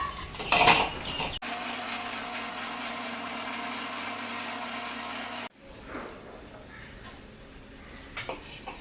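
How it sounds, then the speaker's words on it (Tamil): After a clink of a jar, a mixer grinder grinds nuts into a fine paste, whirring steadily at high speed for about four seconds, then stops abruptly, followed by faint kitchen clatter. "அதை வந்து மிக்ஸி ஜாரில் போட்டு அரைச்சி எடுத்துக்கலாம்"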